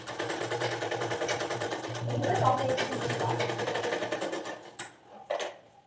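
Sewing machine stitching during a tailoring lesson, a steady mechanical whir with fine rapid ticking that runs almost without a break, then stops and starts again in two short bursts near the end.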